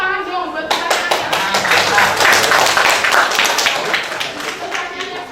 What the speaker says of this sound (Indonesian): Ayo tepuk tangan dong buat pertanyaannya